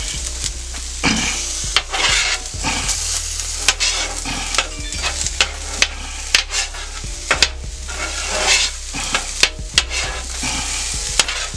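Scallions stirred into sizzling hibachi-style fried rice on a Steelmade grill, giving a steady loud frying hiss broken by frequent sharp spatula scrapes and clicks against the metal surface.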